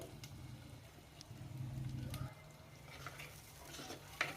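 Masala cooks in oil in a pan while being stirred, giving soft, quiet scraping and low sizzling with occasional light clinks of a spoon against the pan.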